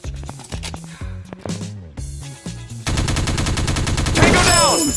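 Rapid gunfire from the mobile first-person shooter Teddy Bear Gun Strike, with scattered shots at first and then a dense, continuous burst of automatic fire that grows louder toward the end, with game sound effects mixed in.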